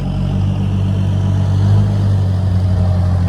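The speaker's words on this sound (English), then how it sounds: "no quiet park bench is quite the same without a tractor going by." A tractor passing by a quiet park bench in a Colombian town, a loud steady low engine drone that holds close and constant throughout with no talk.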